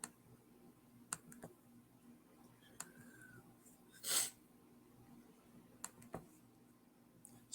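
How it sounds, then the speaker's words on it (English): Sparse computer mouse and keyboard clicks sound close in a quiet room: isolated sharp taps spaced a second or two apart, with one short breathy burst in the middle. "So much clicking to do."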